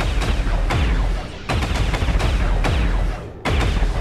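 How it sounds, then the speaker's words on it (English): Gunfire in the XCOM 2 tactical game: rapid bursts of loud automatic shots in a dense, rattling stream, briefly pausing twice before resuming, close and heavy with booming low end. "Open fire."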